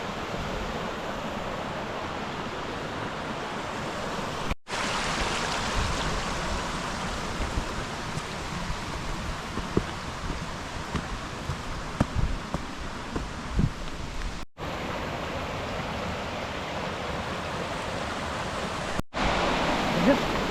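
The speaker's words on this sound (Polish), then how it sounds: "Zobaczcie, już tutaj zaczynają się jakieś kaskady." Cascades on the Lewa river rush in a steady, broad roar that runs unbroken from start to finish, with brief cuts in between.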